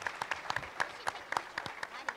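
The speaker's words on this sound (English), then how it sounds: "Give yourselves an applause." Scattered handclaps from a small audience at an anime convention voice actor panel, faint and sparse rather than a full ovation, with voices underneath.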